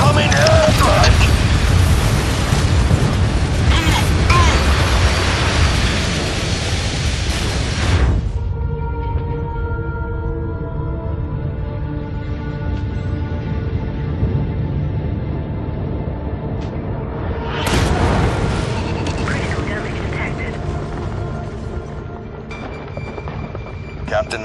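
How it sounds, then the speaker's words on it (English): Heavy airstrike blasts in MechWarrior 5: Mercenaries, a loud sustained roar of explosions and rumble for about eight seconds, then a quieter tonal stretch before another burst of impacts, with game voices talking through it. "Incoming airstrike!"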